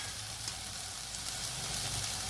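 Faint, steady sizzling of food frying in a pan, a continuous hiss with no breaks or voices.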